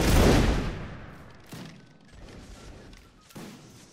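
A massed musket volley in a line battle video game booms at the outset and rolls away into a decaying roar, followed by scattered fainter shots.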